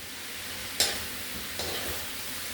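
Kare kare beef being stirred in a pot, with two sharp scraping strokes of a spoon over a low sizzle, close and with no talking.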